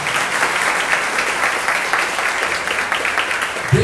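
A church congregation claps steadily, with a dense, even wash of applause from many hands that holds for several seconds without letting up.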